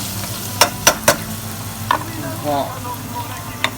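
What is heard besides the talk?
garlic frying in oil in a pan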